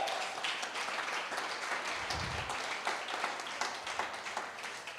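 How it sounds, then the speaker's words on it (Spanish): A church congregation applauds during an evening sermon, a fairly quiet, steady patter of many hands clapping together. "si van a aplaudir, aplaudan"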